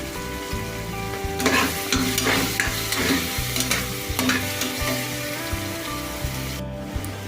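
Soaked soya chunks and sliced tomato fry in a pan for a hotel-style palak pulao, a continuous close sizzle broken by scraping and stirring strokes of a spatula, with no talk.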